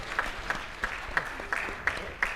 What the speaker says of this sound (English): A little louder applause, please.